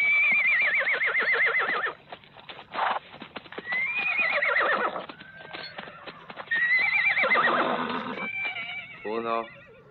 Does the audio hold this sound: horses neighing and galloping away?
yes